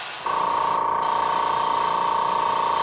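Aerosol spray paint hisses steadily onto a model rock, starting abruptly after a brief quiet moment and continuing as one loud, unbroken spray with no talking.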